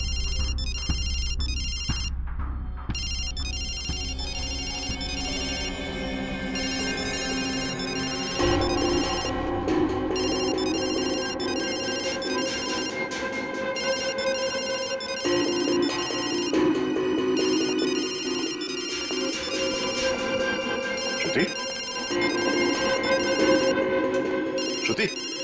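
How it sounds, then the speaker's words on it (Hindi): A mobile phone ringer plays a melodic electronic ringtone loudly and repeatedly, its tonal phrases cycling over a low background hum throughout. "ये फोन, इसका रिंगर, ये ट्रिगर है"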